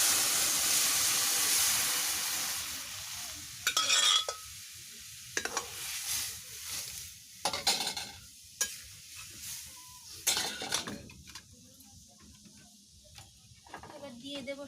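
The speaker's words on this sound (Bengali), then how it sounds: "এবার ডালটা ঢেলে দেব।" Kalai (black gram) dal poured into a hot pan: a loud, broad sizzle at first that quickly dies down, then scattered scraping stirs and bubbling bursts close by.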